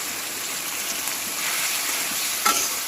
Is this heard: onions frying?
yes